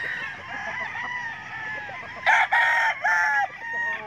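Roosters crow at a game farm, several long cock-a-doodle-doo calls rising over steady background clucking and coop noise, with the loudest crows close by near the end.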